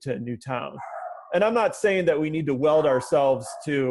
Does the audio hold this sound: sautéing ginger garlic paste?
no